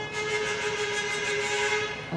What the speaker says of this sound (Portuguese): Por favor, evite buzinas.